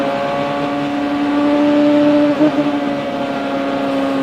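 Indy race cars circle slowly behind the pace car during a caution period on a 500-mile oval race, producing a continuous droning engine hum with steady tonal whine, loud and unbroken.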